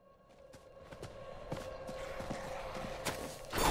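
Horse hooves clopping in Diablo 4 while a druid rides across the game world, a steady run of soft hoof hits with a mechanical background hum and no talking.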